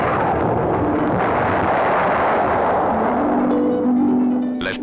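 A quarry blast using 4,000 kilos of dynamite: a loud, sustained rumbling roar of the explosion and falling rock, dense and heavy throughout, with no talk.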